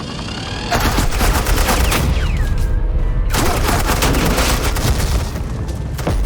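Dense bursts of automatic gunfire and booming shots in the Batman: The Enemy Within video game, loud and continuous for most of the clip with no talk over it.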